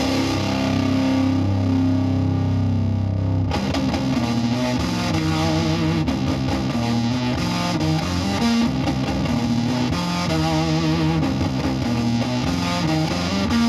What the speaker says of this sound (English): that's where we're going to get our full distorted fuzz.